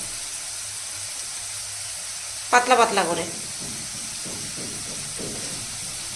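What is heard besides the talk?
sliced potatoes frying in a pan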